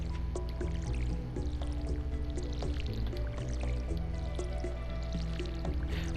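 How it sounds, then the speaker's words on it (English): Watering seeds in a farming video game: soft dripping and splashing liquid sounds repeat over a steady background music loop, fairly quiet, with no talking. "So we'll go ahead and water these up since we're here."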